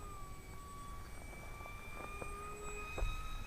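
Graffiti Delta Wing 560mm RC plane flying on a 3S battery, a steady distant electric whine with shifting pitch as it maneuvers, heard alone at moderate level.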